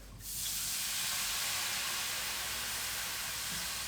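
Wine poured into a hot pan to deglaze it: a sudden sharp sizzle that swells at once into a steady, loud hiss of steam and keeps going, close up and alone.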